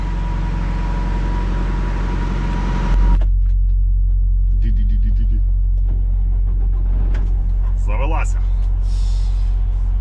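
A car drives on a road in bad winter weather with a steady low engine and road rumble throughout, loud and close, while someone talks over it.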